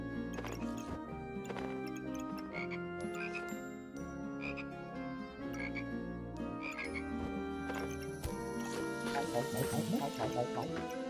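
Toads croak in the game Backpack Battles amid a dense, busy game soundtrack, with tinkling effects layered over continuous music throughout.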